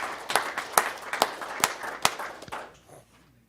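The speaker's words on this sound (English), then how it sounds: "We'll give her a round of applause." Brief applause at a school board meeting for a student high jumper, heard as a handful of distinct, fairly close claps over a light patter that quickly trails off into quiet.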